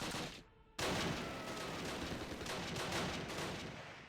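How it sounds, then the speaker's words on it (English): An MG42 machine gun fires in the Close Combat video game. After a short gap, dense, loud bursts of gunfire run continuously for several seconds with no talking. "fired off 100 rounds with this MG42"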